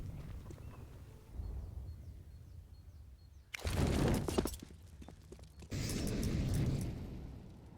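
Counter-Strike grenades and molotovs go off on the Inferno map during a professional match, a sudden loud burst near the midpoint followed by a second sustained crackling roar of fire, between quieter stretches of game ambience.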